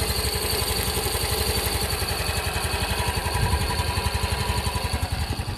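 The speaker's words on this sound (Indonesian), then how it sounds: "Ini saya coba nyalain. Ini idle-nya, suara idle." Yamaha Grand Filano Hybrid scooter idling up close, a steady loud low putter with an even rapid pulse that barely changes throughout, no speech over it.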